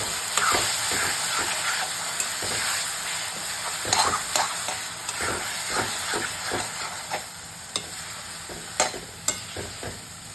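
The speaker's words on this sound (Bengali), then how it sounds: "আলু মটরশুঁটি কষা করছি এটা।" Potatoes and peas stir-fried in a pan give off a close, steady sizzling hiss, broken by frequent scraping and clattering strokes of a stirring utensil, with no talking.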